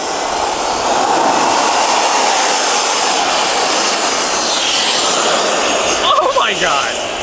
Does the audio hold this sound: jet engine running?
yes